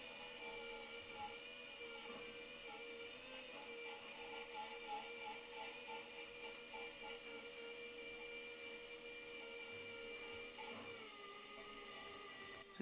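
A fine-pointed dental burr polishing an amalgam filling on a tooth, a continuous high-pitched whine holding steady throughout, quiet and close with faint mechanical chatter underneath.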